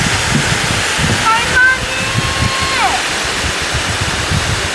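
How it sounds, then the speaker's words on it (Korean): Steady, full rushing water from a waterfall below the Gujeolsan suspension bridge, heard from nearby as a constant broadband roar with a brief faint tonal squeak partway through. "구절산 출렁다리 밑으로 폭포."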